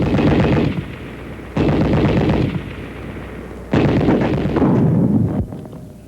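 Anti-tank rifle grenade blasts against a sandbagged machine gun nest: two heavy, booming explosions, each trailing into a long rumbling decay, loud and close with no voices.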